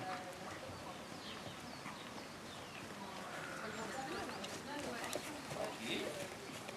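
A horse trots during a riding lesson, its faint hoofbeats keeping a steady rhythm in a quiet arena while birds coo in the background and a voice speaks softly.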